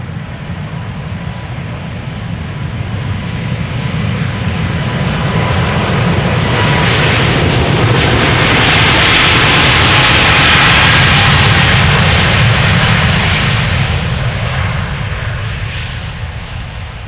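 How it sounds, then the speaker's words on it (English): KLM Boeing 777-300 jet departing Amsterdam Schiphol, its engine roar swelling from a distant rumble to a loud broad rush at mid-clip, then slowly fading, with no voices. "This is a 777-300 to Lima in Peru."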